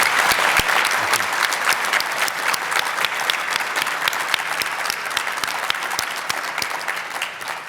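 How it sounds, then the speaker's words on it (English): Audience at a policy panel on redistricting in California giving sustained applause, dense and even, with crisp individual claps close by over a broad crowd patter lasting nearly eight seconds. "So big round of applause for this panel."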